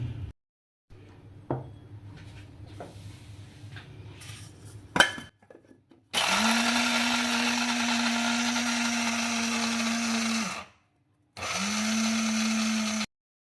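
An electric kitchen grinder pulverises peanuts into a paste in two loud, steady whirring bursts, one long and one shorter, after a few light clattering handling knocks.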